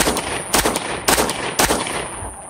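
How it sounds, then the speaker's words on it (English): Three sharp handgun shots crack in quick succession, fired rapidly without using the sights at close range, each loud and followed by a brief echo. "I'm pretty much hurrying with those shots"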